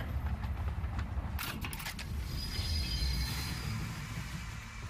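A train brake squeals in the video game Voidtrain: a brief burst of high screeching near the start, then a long thin whine over a steady low rumble of the moving train, with no talking.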